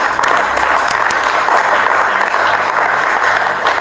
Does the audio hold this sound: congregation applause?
yes